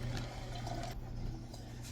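Tap water runs steadily over strained beef in a strainer, a continuous close splashing rush with no pauses.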